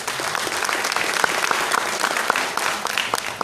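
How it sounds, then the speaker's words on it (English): Audience applause at a public ceremony attended by a mayor and other dignitaries, dense and continuous with close individual claps standing out, heard alone without speech. "Give yourselves a round of applause."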